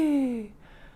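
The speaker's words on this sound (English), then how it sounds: "So when we're singing, we'll end up with a weaker or hooty tone like this" A single weak, hooty falsetto note is sung as a breathy demonstration, sliding slightly downward and fading after about half a second; close, soft and solo.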